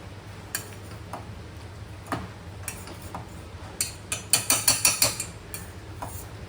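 A pav bhaji masher pounds cooked pumpkin in a pot, giving scattered soft clacks that build into a quick run of sharp metallic taps near the end, fairly close and with no talk.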